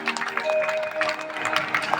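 Audience at a Shri Krishna katha clapping along in a steady scatter of handclaps, with a held tone and faint voices mixed underneath.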